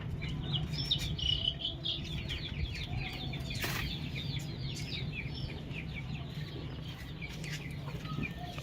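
A hen clucks softly and repeatedly inside a coop as she settles near her egg, with small chirps and a low background hum throughout.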